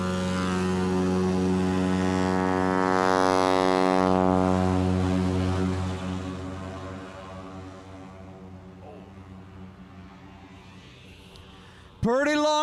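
A black, silver and white Fat Tire Cowboy 185 plane takes off under a loud, steady propeller drone that holds for several seconds, then eases and thins out as it pulls away. A sharp rising whine bursts in near the end.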